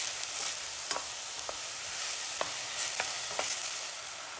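Peppers sautéing in a pan sizzle steadily up close, with soft intermittent taps and scrapes of a stirring utensil every half second or so.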